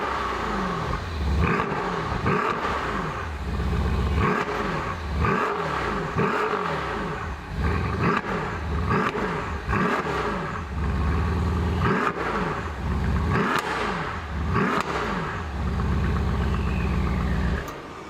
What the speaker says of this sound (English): Let's hear how it sounds from the 4 polished chrome exhaust tips.